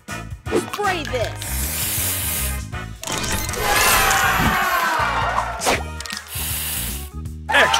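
Spray booster effect firing in the Match Masters puzzle game, a loud burst of hissing and crashing effects layered over busy game music and chimes across the whole stretch.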